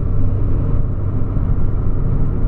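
Steady, loud engine and road rumble inside a Volkswagen Polo cruising at 100 km/h with all windows closed, a continuous low drone with no talking.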